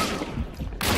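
Loud burst of shotgun fire from a western-themed video game, a dense blast running through the clip with a sharp second report near the end.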